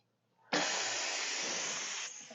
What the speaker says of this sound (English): I just need to release the steam, so all I'm going to do is, there's a button right here in front